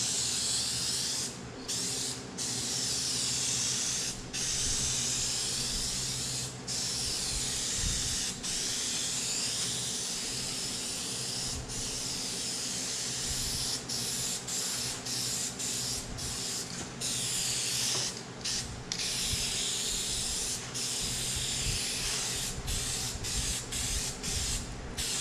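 Aerosol spray paint coating black trim and a car bumper, a close, continuous loud hiss broken by brief pauses as the nozzle is released and pressed again, with no talking.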